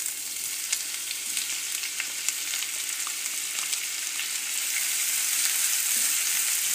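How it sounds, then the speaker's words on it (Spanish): Finely chopped half onion goes into oil left over from frying cauliflower, making a bright steady sizzle with scattered crackles that swells slightly toward the end, close up with no talking. "en el aceite que nos ha sobrado, echamos la media cebolla partida finita"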